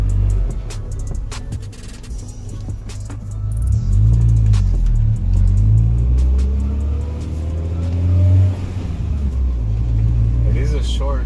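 A car fitted with a new K-Tuned short shifter and a weighted shift knob, heard from inside while driving: an engine hums and rises through several revs with shifts in pitch as it goes through the gears.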